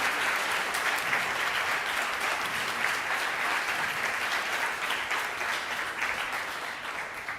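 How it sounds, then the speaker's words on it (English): A church congregation applauds steadily for several seconds in a dense, even wash of clapping that fades slightly toward the end, with no voices over it. "Won't you join me in one collective round of applause?"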